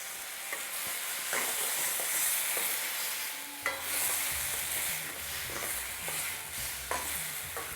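Tomatoes and mushrooms fry in a hot pan for a restaurant-style chicken balti, giving a steady, close sizzle broken by a few scraping stirs and clatters, with no talking.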